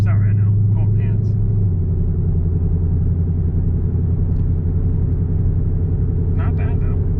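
A 2017 Ford Mustang GT fitted with an MBRP cat-back exhaust cruises along, giving a steady, loud low rumble with a constant drone; a speaker talks over the engine at the start and again near the end.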